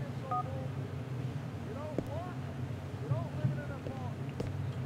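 Phone keypad dialing in Grand Theft Auto 4, a few short tonal beeps in quick succession over steady game ambience and background noise, with speech also present.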